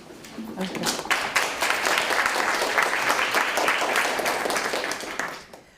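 An audience at a talk on sustainability applauds to welcome the speaker with dense, sustained clapping that swells quickly and fades near the end.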